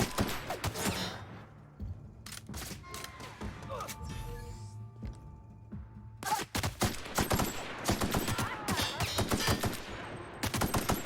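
Repeated bursts of game gunfire from The Outer Worlds, sharp volleys clustered at the start and again in a dense stretch toward the end, loud and close over background game noise with a brief lull in between.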